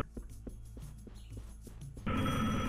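A telephone rings inside the game Serious Sam: The Second Encounter, a series of rhythmic ringing bursts at a steady pace, moderately loud, before a sudden louder noisy sound cuts in at the end.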